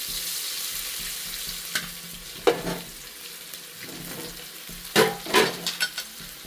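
A spoon stirs a wet palak methi muthiya mixture of spinach and fenugreek, producing scattered soft scrapes and squelches over low background noise, with a louder cluster of stirring strokes near the end.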